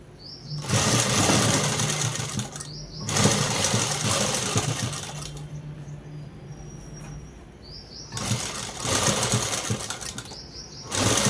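A sewing machine stitches a blouse in several bursts of steady, fast mechanical whirring, each lasting a couple of seconds, separated by short quiet pauses.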